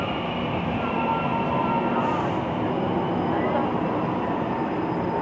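An EMU900 local train bound for Miaoli enters Hukou station with a steady, loud rumble of wheels and motors that holds throughout, with a faint high squeal above it.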